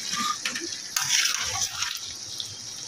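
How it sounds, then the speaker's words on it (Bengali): Liquid broth splashes and trickles into a pan of catfish curry, a short burst of pouring with small splashes and drips, moderately close and with no voices. "এটার মধ্যে এখন ঝোল দিয়ে দেব"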